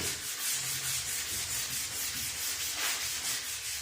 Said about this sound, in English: Just real quick, just give it a scuff, make the surface uniform.